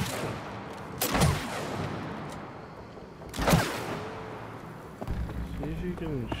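Gunfire in the co-op video game It Takes Two, two loud shot bursts a couple of seconds apart over game ambience and music, with another burst of action near the end.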